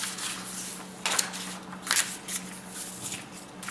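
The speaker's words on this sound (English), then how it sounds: "I will go ahead and just kind of shuffle them together and mix them up" Loose paper pieces are shuffled and mixed together by hand, giving a soft continuous rustle with a few louder crinkling bursts, close by and with no talk over it.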